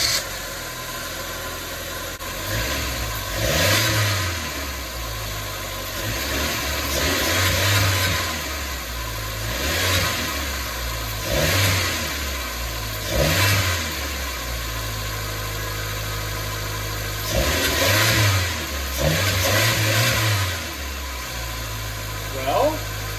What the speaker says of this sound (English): Let's start the car up and see if this changed anything.